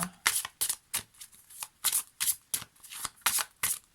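Oracle cards shuffled for a reading, a close, loud run of rhythmic riffling bursts, roughly two or three per second, with short gaps between them and no talking.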